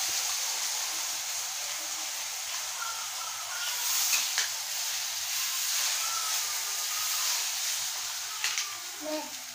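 Leftover roti frying in oil in a pan gives a steady, broad sizzling hiss that holds through the whole stretch, with a few faint scrapes and no talking.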